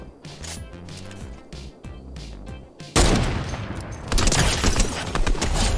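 Rapid bursts of gunfire in Fortnite Zero Build, sparse shots at first, then a dense, loud volley of continuous shooting that fills the second half.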